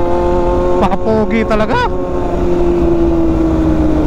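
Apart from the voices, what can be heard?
Yamaha R1M motorcycle engine riding along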